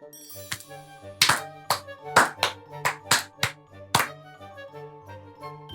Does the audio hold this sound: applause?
yes